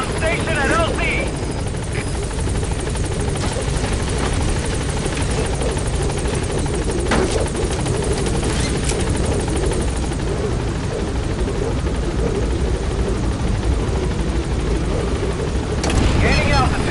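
The Pequod helicopter from Metal Gear Solid V comes in to a landing zone, rotor thrum loud and continuous, with a radio voice talking over it.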